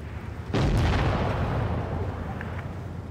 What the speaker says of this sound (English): Love this little backwards reverse shot the MAUS has got going on here.